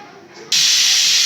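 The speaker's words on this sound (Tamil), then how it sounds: "தண்ணி நல்லா கொதிக்கிடுப்பா." A loud, steady hiss of steam bursts in suddenly and keeps going, like a pot of water boiling hard.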